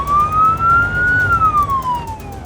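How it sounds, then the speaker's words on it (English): An ambulance siren wails loudly and close as the vehicle drives code 1 with lights and sirens to a patient: one long rising and falling sweep over a rumbling engine and road noise. "We're going code 1, lights and sirens to this patient"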